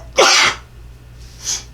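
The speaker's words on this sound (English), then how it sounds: "I have been sneezing." A single loud, close sneeze bursts out, followed by a fainter breathy sniff or exhale a second later over a low hum.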